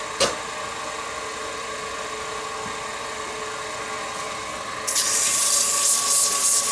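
Steady whirring of a spinning lathe turning a wooden chess pawn, with a soft, continuous abrasive rubbing of 600-grit sandpaper that grows louder and brighter near the end as the sandpaper presses harder.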